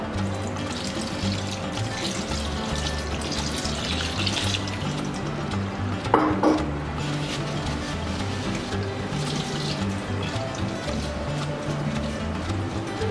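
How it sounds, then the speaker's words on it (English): Cold tap water runs steadily over drained spaghetti in a kitchen sink, a continuous splashing wash with one brief louder splash midway, no talk over it. "And then wash it with cold water."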